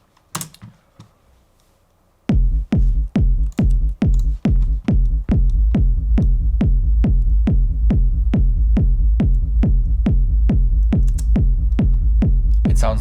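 Looped techno kick drum with sidechained bass, the kick too long and the sidechain too short so the low end turns muddy; a steady, loud four-on-the-floor pulse of punchy thumps, starting after a couple of quiet seconds.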